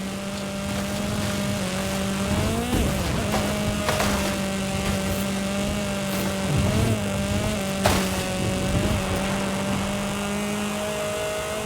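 A Lamborghini Centenario in a racing video game holds a loud, continuous engine drone throughout, its pitch dipping and rising with gear changes and a few sharp bumps along the way.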